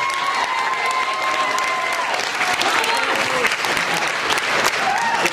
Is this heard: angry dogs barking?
no